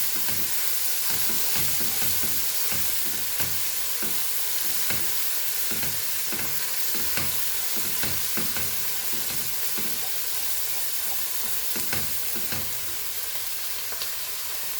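Tomato and onion fry in a pan for a Goan prawn and brinjal xec xec, with a constant close sizzle broken by repeated rhythmic scrapes of stirring.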